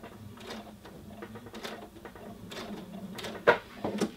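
A sewing machine stitching a curved princess seam, running in short irregular bursts with soft mechanical clicks and fabric handling, fairly quiet.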